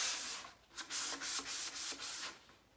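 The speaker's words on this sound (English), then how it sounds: "I will take a sanding sponge and I will just sand it" Rhythmic back-and-forth scrubbing of a sanding sponge against a dresser drawer, close and steady, with no talking.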